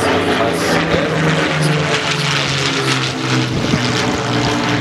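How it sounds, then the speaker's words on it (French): Propeller airplane flying at the La Ferté-Alais airshow in 2023, a loud, steady broadband engine roar and rumble that stays close and continuous throughout, with no talk over it. "J'ai trouvé l'avion."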